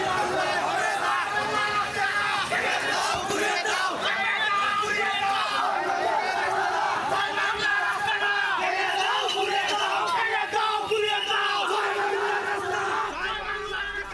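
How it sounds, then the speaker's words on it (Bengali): A large crowd of local Chhatra Dal and Jubo Dal activists carrying sticks chants "dalal" slogans in unison. The shouting is loud, dense and continuous, with many overlapping voices and a constant roar of outdoor hubbub. "স্থানীয় ছাত্রদল ও যুবদল লাঠিসোঁটা নিয়ে দালাল দালাল স্লোগান দিতে থাকে"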